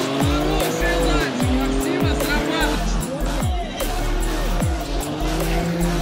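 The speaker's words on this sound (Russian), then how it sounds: "Максим поднимает обороты" A drag race car at the staging line revs hard in repeated sharp bursts and then launches, loud and close, with tire noise, crowd murmur and a commentator talking over it.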